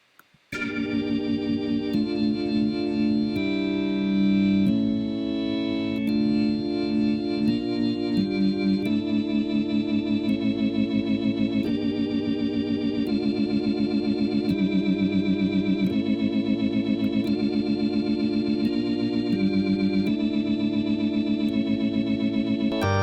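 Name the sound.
organ played through a Leslie speaker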